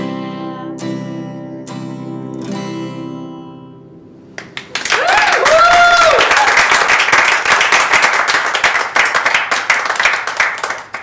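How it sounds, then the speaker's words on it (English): After a sustained musical chord fades, an audience breaks into loud, dense applause that rolls on steadily to the end, with cheering and whoops mixed into the clapping. "You all clap."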